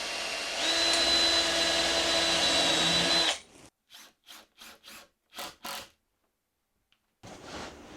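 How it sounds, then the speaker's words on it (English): A power drill bores pilot holes in MDF, a continuous whirring burst followed by a series of short, sharp drill pulses and pauses, close and fairly loud with no voices. "I'm going to get some pilot holes drilled and then get the screws driven in"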